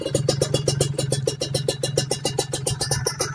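Kawasaki Ninja two-stroke motorcycle with an aftermarket exhaust revving steadily nearby, a loud rapid pulsing exhaust beat with repeated throttle blips and no talk.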